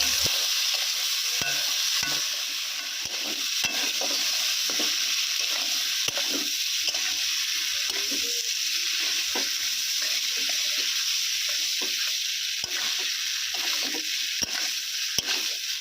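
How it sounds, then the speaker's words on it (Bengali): Boiled peas and potatoes are stirred into a sizzling spice mix in a pan for ghugni, with scraping stir strokes over a steady fry, close and alone. "ভালোভাবে মশলার সাথে মিক্স করে দেবো।"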